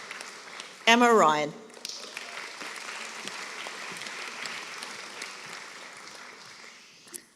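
Audience at a college graduation ceremony applauds BA Arts graduates: a voice briefly announces a name, then broad, steady applause fills the hall for several seconds before tapering off.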